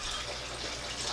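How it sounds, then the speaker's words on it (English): Hot water pouring steadily into a well of flour in a mixing bowl for pizza and breadstick dough, a continuous close liquid stream for about a second. "add 3 cups"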